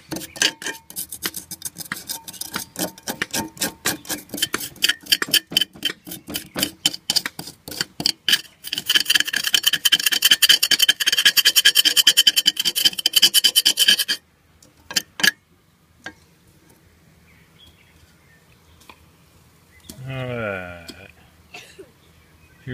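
A tool scraping a crust of dried sea salt off a pan, a dense run of gritty, rapid rasping strokes that grows louder and continuous, then stops, leaving quiet with faint scratches.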